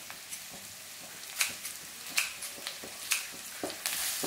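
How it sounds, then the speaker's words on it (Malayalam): Onion, ginger, garlic and green chili sauté in a pan for a curry: a soft, continuous sizzle broken by sharp, irregular scrapes and taps of stirring. "ഈ സവാളയും ഇഞ്ചിയും വെളുത്തുള്ളി എല്ലാം കൂടി നന്നായിട്ടൊന്ന് വഴന്നു വന്നോട്ടെ."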